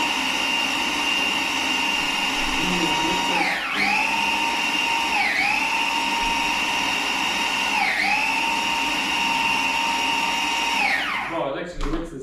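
A blender grinds nuts, fruits and seeds for a raw vegan cake, running as a loud, steady whine that dips in pitch several times as the load catches, then winds down at the end.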